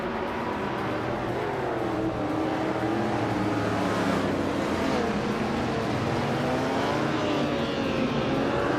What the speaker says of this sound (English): Hingle McCringleberry's car is a 1968 Dodge Dart Hemi Superstock Tudor.